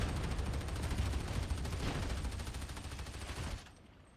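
A twin-linked heavy stubber in the video game Warhammer 40K: Darktide fires a continuous, rapid stream of heavy automatic shots, loud and close, then cuts off abruptly with no voices.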